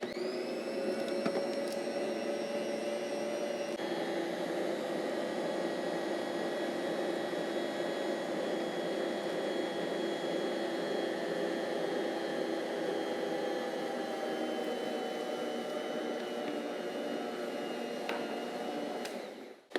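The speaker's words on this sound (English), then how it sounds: "all we need to do is dump everything into the mixer. And I'm going to mix this together" A stand mixer runs steadily, mixing croissant dough from dumped-in ingredients: a continuous loud motor whir with a slight pitch shift early on, holding evenly for the whole stretch with no talk.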